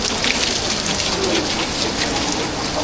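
Waterfall on the Mother Falls trail in the Philippines, a dense, steady roar of pouring water that fills the scene loud and close, unbroken throughout, with no voices.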